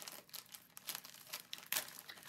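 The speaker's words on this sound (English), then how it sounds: "Just deal with the crinkles." Plastic packaging crinkling as it is handled and pulled open by hand, a run of close, irregular crackles and rustles with a sharper burst near the end, no talk over it.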